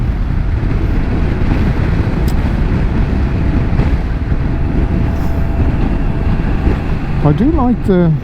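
Steady, loud roar of a BMW F900XR motorcycle riding with a quick shifter, engine and wind noise constant throughout, with a brief rising whine near the end.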